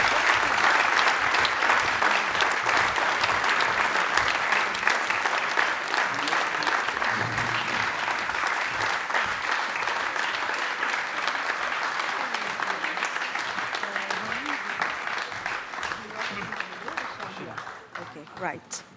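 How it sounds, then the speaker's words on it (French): Concert hall audience applauds under-12 competition finalists at a Mozart concert event, a long, steady crowd clapping that slowly thins and fades over nearly twenty seconds, with a faint voice briefly audible beneath. "Sous vos applaudissements."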